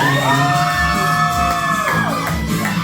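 A live crowd at a company year-end party yells and whoops loudly and continuously, a dense wall of shouting voices with no pauses.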